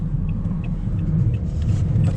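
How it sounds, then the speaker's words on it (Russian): Inside a car on a winter road in Mirny, Yakutia, in deep frost, a steady loud low engine and road rumble continues with faint light rattles over it; no one speaks. "Вот, а мы с вами едем."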